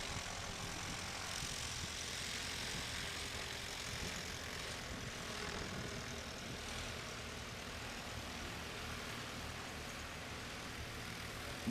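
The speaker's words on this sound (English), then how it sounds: "In that 1956 Piper Super Cub from Wasilla, Alaska." A 1956 Piper Super Cub from Wasilla, Alaska runs its engine at a short takeoff and landing practice event in the Appalachian Mountains, a steady broad propeller drone and rumble holding constant throughout, without any speech.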